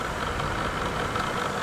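Close by, a humming, slightly rattly drone rises from the spinning fan wheel of an EcoAir DD122 dehumidifier, where a scrap of folded cardboard is caught. The sound runs steadily with a faint rhythmic knock, and no voices are heard.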